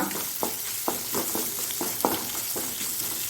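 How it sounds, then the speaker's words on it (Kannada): Ginger garlic paste sizzling in hot oil in a pan for Mangalore-style prawn uppumunchi, a constant close frying hiss with a series of short scraping stirs at a steady rhythm. "ಒಳ್ಳೆ ಫ್ರೈ ಆಗಲಿ."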